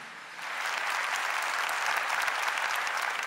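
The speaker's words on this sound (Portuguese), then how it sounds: "a quem eu peço uma salva de palmas" A church audience claps in sustained applause for a monsignor, a dense, even wash of many hands that swells in after a brief softer start and holds steady, near and loud, with no voices over it.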